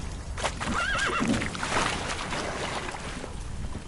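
Roach, a horse in The Witcher, gives a short wavering neigh early on, against a constant rustling wash of ambient outdoor game sound with no talk.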